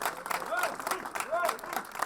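Enthusiastic ovation greets a freestyle wrestling gold medalist walking into a waiting hall, a continuous crowd clapping that runs underneath someone talking throughout.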